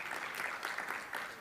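Conference session audience gives a round of applause, a brief burst of dense clapping from many hands at moderate distance, lasting just over a second.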